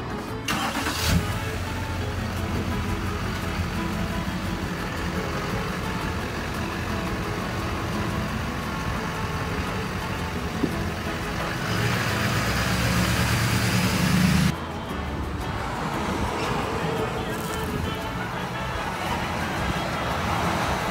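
Steady engine drone and road rumble from inside a moving monster truck, continuous and fairly loud throughout, with a brief surge of heavier engine noise near the end before it settles again.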